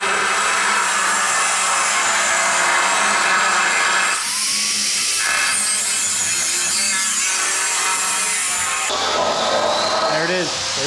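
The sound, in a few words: cutting a truck frame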